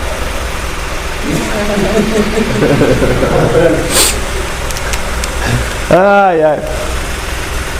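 Car engine idling while misfiring on one cylinder, a low steady rumble with an uneven, stumbling beat under people talking during a diagnostics class.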